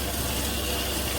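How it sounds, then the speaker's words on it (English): Water gushes steadily from a jail cell faucet, a loud, constant, close rushing stream with no break. "We would turn the water on."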